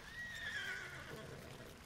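A horse whinnies in the video game LOTRO at Helm's Deep, one drawn-out neigh that rises and falls over steady game ambience.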